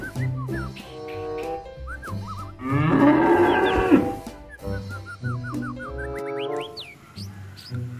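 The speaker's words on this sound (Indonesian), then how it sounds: "Ini hewan sapi," A cow in the video game Jurassic World Evolution 2 gives several drawn-out, rising and falling moos, with one louder, fuller bellow in the middle. The calls come close and clear over a quiet game soundtrack.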